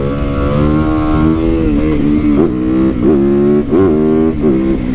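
A 450 supermoto motorcycle engine, loud and close, holding a steady high drone and then revving in several sharp surges during a wheelie.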